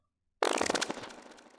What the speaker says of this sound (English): I did the sci-fi computer plus these rewind sounds.